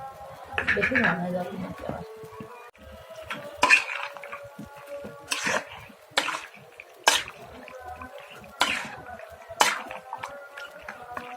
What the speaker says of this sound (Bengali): তো এই যে মাংসটা আমি কষাচ্ছি